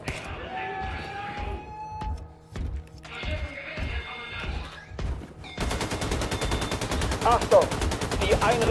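Gunfire in the shooter Wolfenstein 2: The New Colossus, with bursts of rapid shots amid game sounds and music, first in short clustered volleys, then a dense continuous stretch of automatic fire.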